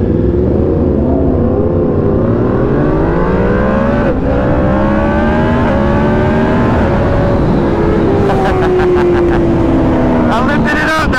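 A Yamaha MT-10 motorcycle accelerates hard on a street near a traffic light, its engine note climbing loud and close over a steady roar, with a few quick gear changes toward the end and people talking over it.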